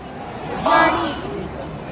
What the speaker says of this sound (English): There's a crowd.